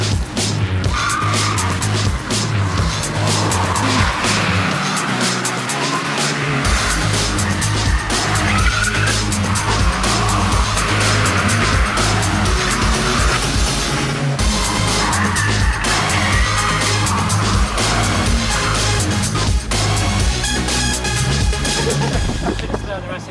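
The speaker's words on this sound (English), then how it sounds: "we're going to go on a blistering lap around the Clay Pigeon Cart Raceway in a 200 brake horsepower Ford Fiesta ST." A 200 bhp Ford Fiesta ST laps a kart raceway at speed, its engine droning loudly and continuously with tire squeal and skidding through the corners and gear changes throughout.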